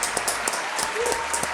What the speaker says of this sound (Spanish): así que un aplauso.